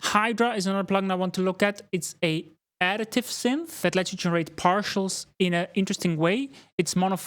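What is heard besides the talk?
None of the usual background noises is heard.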